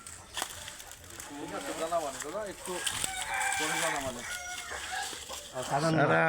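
Black Kadaknath chickens and chicks cluck and a rooster crows repeatedly at close range in a bird park farmyard, with people talking over the birds throughout.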